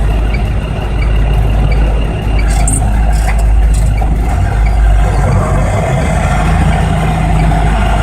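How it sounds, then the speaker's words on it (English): A heavy truck rolls backward, its loud engine rumbling close by, with faint repeating reversing beeps and a brief hiss of air brakes over the road noise. "The truck drivers had to drive backward to get around."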